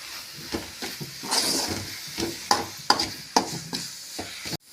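Sardine fish kuzhambu masala with chili powder is stirred in a hot pan. Close, repeated spoon scrapes and knocks sound over a low, steady sizzle, and the clip ends abruptly.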